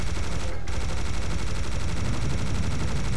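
Serious Sam minigun spinning and firing in an unbroken, loud, rapid stream of shots with one very brief dropout near the start.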